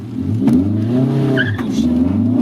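1983 Volkswagen Rabbit GTI sliding sideways under hard braking on track, loud engine drone with a brief tire squeal as the car steps out, close and continuous.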